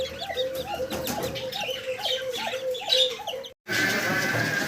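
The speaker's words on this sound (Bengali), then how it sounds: "এগুলো হচ্ছে ফেন্সি মুরগি সিলভার সেফরাট" Silver Sebright fancy chickens cluck in a repeated, evenly spaced pattern close by, with chirps from other birds behind them; after a brief dropout, broader noisy sound takes over.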